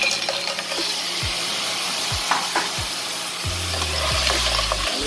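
Onion and ginger sautéing with clams in a hot pan for clam soup, a steady sizzle with scraping stirs and a few soft clinks of utensil against the pan.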